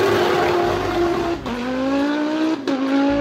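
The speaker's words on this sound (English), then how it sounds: "5 cylinders. You simply can't find a replacement for that sound." A five-cylinder engine in an Audi Quattro rally-car style revs hard and close, the pitch climbing through gears with brief drops between shifts and a steady raspy drone throughout, no voices.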